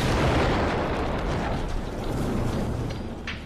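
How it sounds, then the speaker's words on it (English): A medieval stone-ball cannon fires in a quarry. One huge, close blast fills the clip with a dense roaring rumble that slowly decays, with no talk. "The cannon blasts with unbelievable power."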